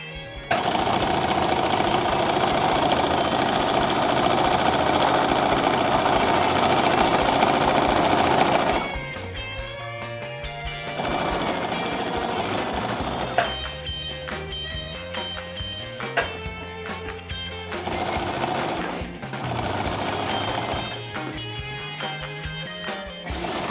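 A sewing machine stitches fabric in loud, close, continuous whirring runs, pausing and restarting in several shorter bursts with mechanical rattling between them, and no voices.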